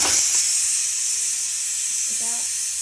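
Steady, loud hiss of steam venting from a pressure cooker on a gas stove after boiling potatoes, continuous and close, with a faint brief voice near the end.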